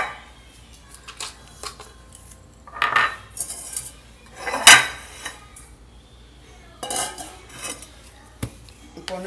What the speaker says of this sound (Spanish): Agarramos el huevito, ponemos un poquito de sal con pimienta, lo vamos a batir.